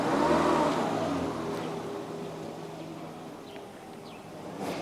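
A car engine revs loud and close as the car drives up, then eases into a lower, steady hum.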